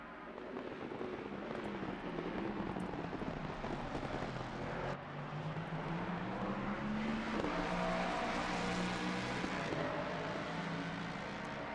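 Two identical race cars accelerating out of the final corners at the Hungaroring in a sim racing game, engines rising and falling in pitch through gear changes, loud and steady with no voices.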